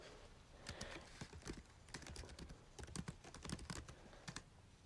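Rapid typing on a computer keyboard while options are entered into an online form, with irregular bursts of crisp key clicks close to the microphone and no talking.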